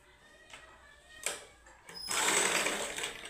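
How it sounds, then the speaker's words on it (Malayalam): A sewing machine stitching a blouse placket: a couple of short hesitant bursts, then a steady, fast whirring run of stitches, close and fairly quiet with no voices. "എല്ലാ തുണിയും ഒന്നുപോലെ പിടിച്ച് സ്റ്റിച്ച് ചെയ്യണം."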